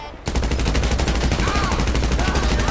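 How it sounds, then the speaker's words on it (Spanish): Rapid gunfire from GTA Online rattles in a fast, continuous burst, loud and close, running steadily for a few seconds with no talk. "Meto 4 tiros y ya está."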